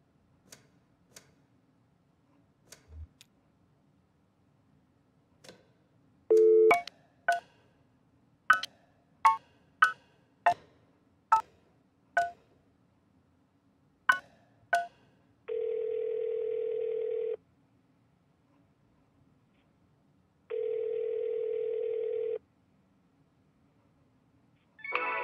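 Telephone line tones in the Kentucky Route Zero video game: scattered clicks, a run of sharp ticking key presses, then two long steady humming tones, each lasting about two seconds, heard alone and fairly faint.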